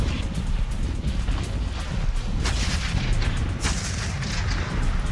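Video game gunfire from Sanctum 2 as a player fires on enemies: a dense, loud, continuous stream of booming shots and blasts with heavy low rumble, no pauses.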